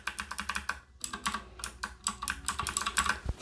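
White box clicky mechanical keyboard switches pressed repeatedly in quick bursts, sharp crisp clicks in an irregular typing rhythm, loud and close with no talk.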